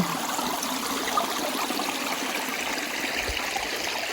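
Water trickles from a pipe set into a small dammed stream on a humid backpacking trail in the Big Sur Silver Peak Wilderness, making a steady close splashing wash with no talk.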